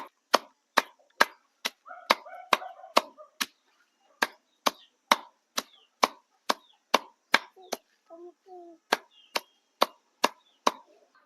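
A knife chops spring onion greens on a board for chickens, about two dozen sharp, close strokes in a brisk, mostly even rhythm, with brief pauses and faint background sounds between the cuts.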